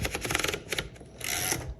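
A 1954 Royal Aristocrat typewriter being turned by hand as its roller pulls paper through, giving quick clicking ratchet bursts followed by a longer, brighter whirring rasp, close and clear.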